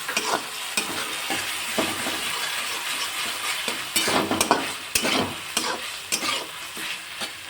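Dry red chili paste being stirred into ginger-garlic paste in a pan for Surti tava pulao: close, repeated scraping strokes over a soft frying sizzle, with louder stirs toward the end and no voices.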